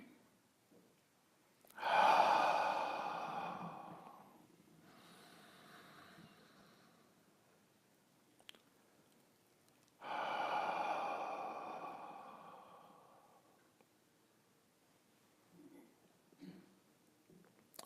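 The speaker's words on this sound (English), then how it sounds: "So take a few deep breaths." Two long, deep breaths during a guided Buddhist meditation service, each a slow, clear inhale-exhale swell lasting several seconds with quiet pauses between, close and unaccompanied by talk.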